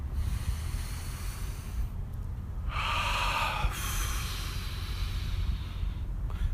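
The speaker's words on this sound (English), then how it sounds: "Let's take a deep breath." A person takes one deep breath during a guided breathing exercise: a single breathy inhale of about a second stands out from steady background noise, with no talking.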